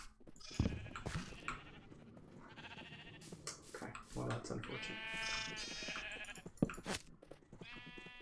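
Sheep in Minecraft Bedrock Edition bleat several times in short, wavering calls, some loud and close, mixed with someone talking over them.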